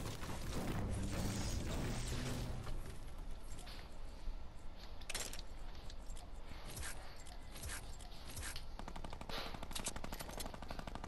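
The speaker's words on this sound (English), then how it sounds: "And I have minigun." Rapid minigun fire in Fortnite, a dense continuous burst of gunshots that dominates at first, then gives way to scattered shots and mechanical clicks, loud and close.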